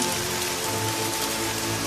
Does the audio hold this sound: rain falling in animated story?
yes